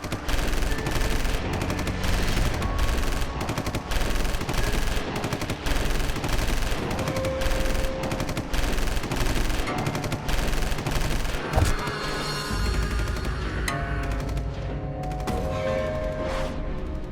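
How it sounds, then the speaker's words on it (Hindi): Gunfire sound effects in a Hindi horror story, dense rapid bursts of automatic and repeated shots pounding almost without pause, loud and close, with rattling ringing tones toward the end. "बहुत बरसाली गोलियां"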